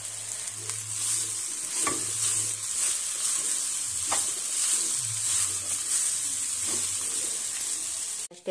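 Poha with roasted peanuts and onions being stirred in a hot pan, a steady bright sizzle running throughout with periodic scraping strokes of the spatula, close and alone without talk.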